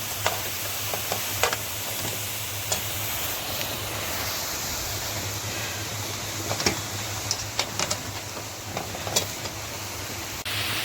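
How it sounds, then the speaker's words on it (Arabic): Vegetables for moussaka, with hot green pepper added, are stirred in a frying pan, giving a steady soft sizzle with scattered scraping clicks of the spoon throughout, close and without talk. "نستمر في التقليب"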